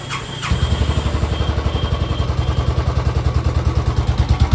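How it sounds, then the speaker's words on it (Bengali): A motorcycle engine, fresh after an engine oil change, starts and settles into a steady, loud, rhythmic idle with a rapid thumping pulse, close to the microphone. "ইঞ্জিন অয়েল চেঞ্জ করার সাথে সাথে স্মুথ সাউন্ড হয়"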